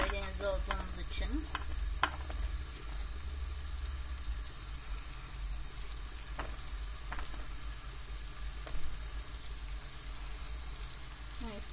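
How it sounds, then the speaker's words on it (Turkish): Fish coated in corn flour frying in a little oil in a Black Sea style pan, a steady close sizzle with occasional clinks and stirring sounds, no talking. "Böyle balıklarımız pişmeye devam ediyor."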